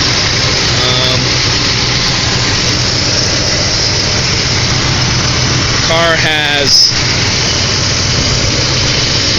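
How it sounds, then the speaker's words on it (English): A 1972 Pontiac Grand Safari's 455 V8 idles steadily up close with a low, even rumble, while someone speaks briefly over it and a short squeal rises partway through. "Here's the engine running."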